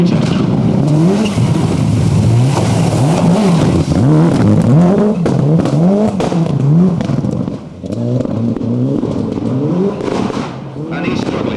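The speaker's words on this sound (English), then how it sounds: "Didier Oriol, works Toyota, in the Castrol back car" A works Toyota rally car in Castrol livery roars past on a Network Q RAC Rally special stage at Weston Park in 1993, its engine revving hard and rising and falling through gear changes, with a commentator talking over it.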